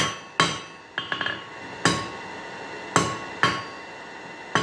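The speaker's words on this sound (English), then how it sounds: "Beat the death out of the anvil." A hammer forging mild steel bar stock on an anvil, with sharp ringing metallic strikes at irregular intervals of roughly one per second, each followed by a brief decaying ring and a few lighter bouncing taps.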